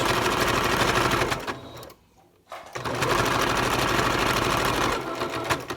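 A sewing machine runs steadily while back-stitching a fabric face mask, a loud continuous mechanical whir that drops briefly to near quiet before starting up again.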